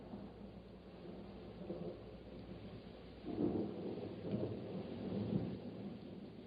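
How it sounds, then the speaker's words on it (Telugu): Steady rain hisses throughout a thunderstorm, then a deep rolling thunderclap swells midway and rumbles on, moderately loud and unaccompanied by voices. "మన ముందు తుఫానుంది చూడు."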